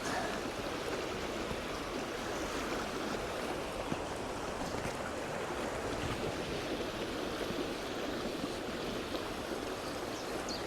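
Welsh stream running high after rain, a loud constant rushing of water filling the whole stretch, near and unbroken, with no talking.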